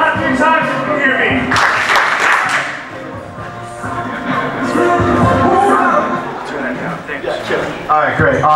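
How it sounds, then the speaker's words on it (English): A crowd at a Justice for All special event claps in response to a call, with bursts of applause rising and falling across a steady murmur of voices. "clap 3 times if you can hear me"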